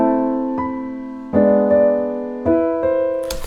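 Lo-fi piano chords with strummizer randomized note timing, each chord struck with slightly staggered onsets and left to ring and decay, a few spaced hits in sequence, clear and alone.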